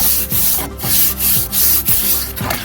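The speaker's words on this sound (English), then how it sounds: "Just a stiff brush, and I like to use this small one just because it's easier." A small stiff brush scrubs algae off a fountain surface that has been loosened with cider vinegar, giving loud rhythmic back-and-forth rasping strokes, about five or six of them, close up with no talking.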